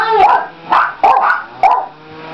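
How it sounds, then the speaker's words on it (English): A dog barks four times in quick succession, close and loud, each bark short and sharp with a slight yelping edge. "He's barking."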